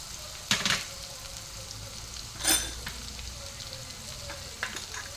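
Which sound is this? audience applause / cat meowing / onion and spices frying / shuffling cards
onion and spices frying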